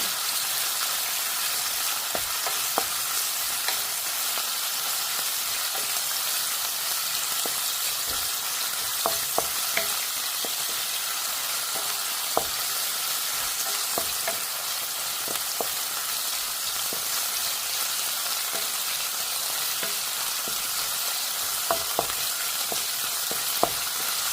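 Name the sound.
stirring frying food with a wooden spoon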